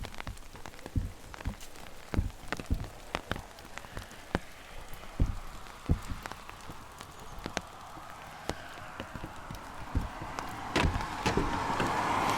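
Rain falls steadily outdoors, a continuous wash broken by scattered sharp drops and taps that grow slightly denser toward the end, moderately close and alone without voices.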